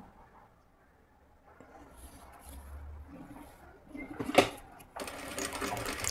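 A sewing machine stitches a puff sleeve, running slowly in short bursts, quiet at first, then a sharp click and a louder steady whir near the end.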